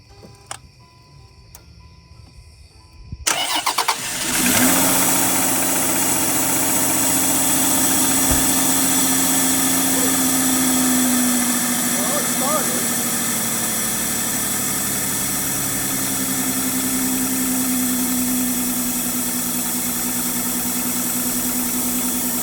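After a quiet stretch with a few faint clicks, a Land Rover Freelander KV6 V6 engine, fresh from a thermostat replacement, cranks briefly, fires, and settles into a steady, close idle hum that continues unbroken.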